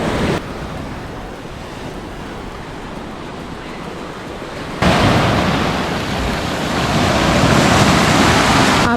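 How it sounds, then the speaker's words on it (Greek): Sea waves break and wash steadily on a Halkidiki shore in Greece, loud and close, with heavy wind buffeting the microphone and the surge swelling louder halfway through. "Ακούς τα κύματα?"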